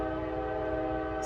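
A passing train sounds a long, steady horn with layered tones over low rumble, loud and continuous throughout, with no speech.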